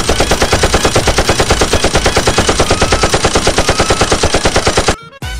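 Rapid, sustained video game machine-gun fire rattles in a loud, even burst for about five seconds, then cuts off abruptly.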